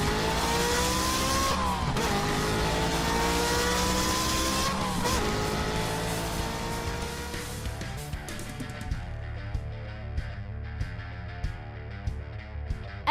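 Mini trucks race in a round of a competition series, with loud revving motors, whining engines and squealing tires close by. Toward the end the motor noise fades to a lower, choppy drone.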